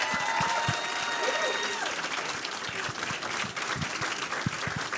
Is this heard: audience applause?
yes